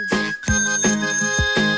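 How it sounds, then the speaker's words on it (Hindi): A bicycle bell rings in four quick, bright rings with even spacing, loud and close, with a steady tone sustained underneath. "टन टन टन टन घंटी बजाते, लाला जी आए साइकिल चलाते।"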